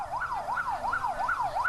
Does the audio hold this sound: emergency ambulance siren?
yes